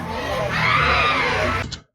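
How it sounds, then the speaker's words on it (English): Desperate, sustained screaming from an apartment, loud and strained for most of the recording before cutting off abruptly. "the desperate screams coming from that apartment are absolutely chilling"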